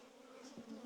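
Honey bees buzz around an opened, weak hive being worked by a beekeeper, a faint, steady hum that carries on without talk.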